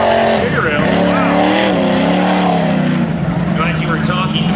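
Off-road super stock trucks racing through a muddy course, with loud engines roaring and revving in shifting pitch as they pass close by, mixed with a commentator talking over the noise.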